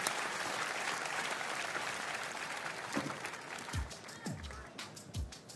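Studio audience applauding on a German TV entertainment show, a dense, steady wash of clapping that holds throughout, with voices speaking over it toward the end.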